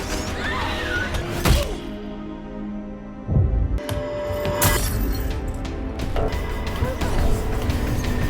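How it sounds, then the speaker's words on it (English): Ice cracking and shattering under a heavy impact, with two loud breaking crashes a couple of seconds apart amid a dense film soundtrack of music and other effects, close and forceful. "And the ice beneath him shatters from the impact."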